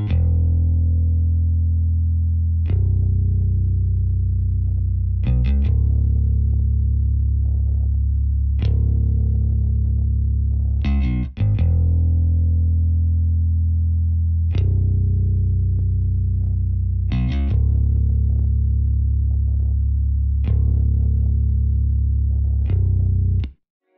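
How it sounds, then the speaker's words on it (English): Rickenbacker-style bass preset played in FL Studio for a melodic rap beat: deep sustained low notes changing every few seconds, loud and dry with a slightly distorted, chorused tone and short plucky attacks, no voices. "This bass is the Scarby Rickenbacker bass Night Session preset."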